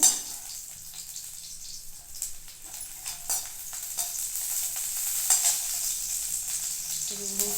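Ginger, garlic and green chilli sautéing in hot oil in a pan, a steady close sizzle with occasional scraping stirs, no voices.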